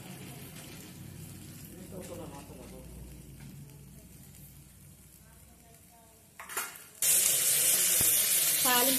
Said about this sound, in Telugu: తాలింపు అయితే వేగిపోయింది కదా,